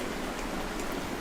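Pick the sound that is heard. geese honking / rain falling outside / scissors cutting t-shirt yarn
rain falling outside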